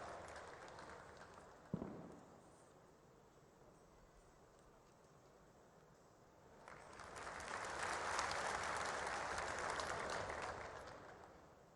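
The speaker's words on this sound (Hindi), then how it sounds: "जोरदार तालियों से अभिवादन हो हमारे गुजरात राज्य के मुख्यमंत्री" An audience at an all-India education association convention in Gandhinagar, Gujarat, greets the Chief Minister with applause. A sharp knock comes after a quiet stretch, then loud clapping swells, peaks and slowly fades.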